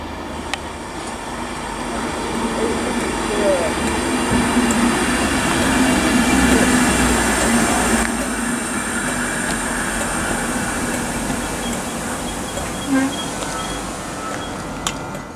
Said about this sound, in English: we've got the LNER Class 800, or a LNER Class 800 anyway.